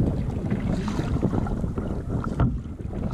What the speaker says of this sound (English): Ah, first wind of the day.